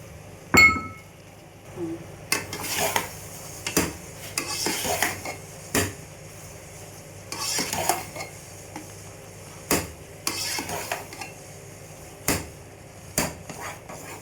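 Raisins, almonds and grated coconut being stirred into halwa in a pan: a spoon scrapes and clinks against the metal in irregular bursts, with sharp clacks near the start and in the second half, and no talk.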